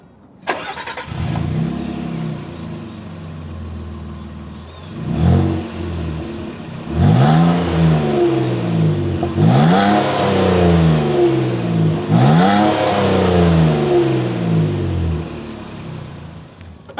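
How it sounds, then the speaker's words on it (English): 2026 Nissan Frontier PRO-4X V6 exhaust, recorded close up: the engine idles, then several sharp revs swell and fall back, each rising to a loud roar before settling to idle, with no talking. "As always, here is that exhaust clip."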